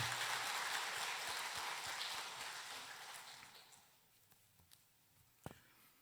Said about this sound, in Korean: 우리 박수를 한번 격려하겠습니다.